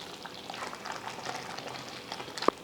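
A pot of curry gently bubbles and simmers with soft, steady popping and a faint sizzle, ending in a brief sharp clink.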